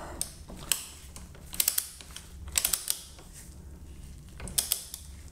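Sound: torque wrench tightening Brembo brake caliper bolts, Ducati Multistrada

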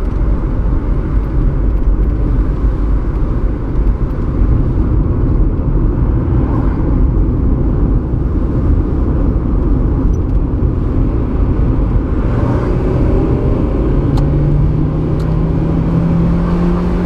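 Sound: car driving with engine rumble

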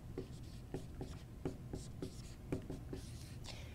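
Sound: writing an equation by hand

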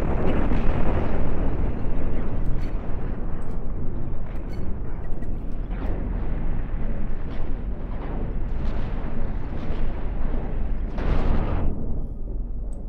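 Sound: spaceship guns firing in Cosmoteer video game

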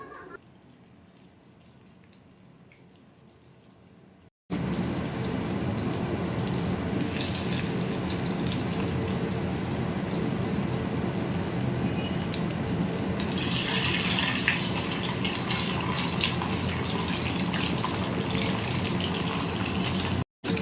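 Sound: marinated chicken leg pieces frying in hot refined oil

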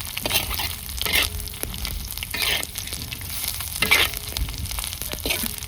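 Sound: frying and stirring Bombay duck (bombil) chutney

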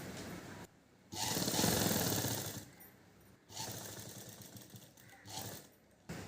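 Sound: sewing machine stitching silk skirt lining

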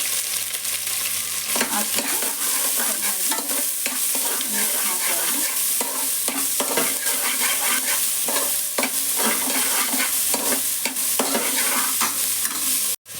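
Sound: green chilies, onion and curry leaves frying in a pan

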